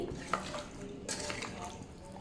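A spoon stirs ginger-garlic paste into chicken pieces in a pot, giving faint, quiet clinks and soft scraping. The sounds are low and sparse, with no voices.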